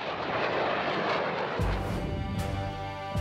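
A MiG-29 fighter jet with Klimov RD-33 engines roars loudly, a broad jet rush giving way to a sharp engine blast and sustained whine as the aircraft passes close by, with no voices.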